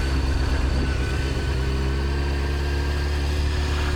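A four-cylinder Honda CBR600F F4i sport motorcycle engine runs steadily at low revs, a loud, even drone with a constant hum and no rise or fall in pitch.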